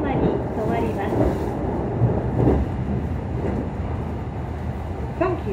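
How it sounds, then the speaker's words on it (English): Meitetsu Panorama Super limited express train running at night, a steady low rumble with faint rail clatter, heard from inside the car under muffled onboard announcements. "Thank you for using the Meitetsu train."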